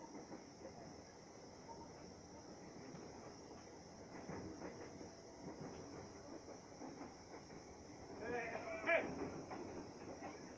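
A commuter train runs between Depok and Universitas Indonesia stations, with a steady rumble, hiss and faint clatter from inside the carriage that swells slightly near the end. No clear talk is heard.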